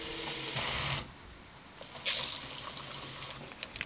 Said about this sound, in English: Now that I've put in the powder, I'm going to add in the liquid